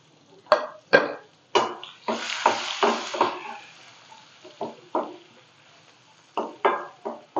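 Chopped medium onion and a bay leaf are tossed into hot oil in a home kitchen, giving sharp repeated scraping strokes with a brief loud sizzle burst early on, then more intermittent stirring close to the pan.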